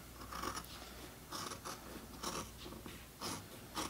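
Scissors cut through folded fabric for a face mask with a series of about five soft, rhythmic snips. The snips are faint and close against a quiet background.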